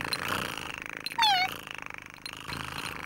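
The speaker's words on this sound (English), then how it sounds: "No, Polly's a ship's cat" A ship's cat in a Postman Pat cartoon gives a single short, rising meow amid a soft, rhythmic purring. Gentle background music runs underneath.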